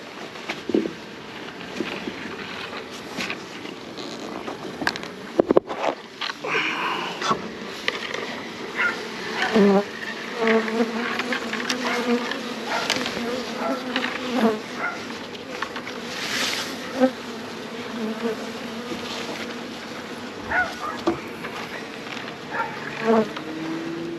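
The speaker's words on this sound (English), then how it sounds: "They're pretty calm. Those Italians, they're such calm bees." Italian honey bees buzz steadily around a hive, a busy droning hum with individual insects passing close, while faint sounds occur in the background.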